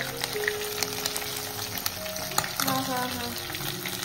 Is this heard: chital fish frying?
yes